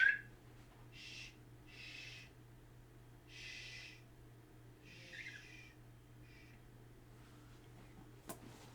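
A pet bird calls indoors in a series of soft, separated hoots or whistles, fairly distant and faint over a low steady hum.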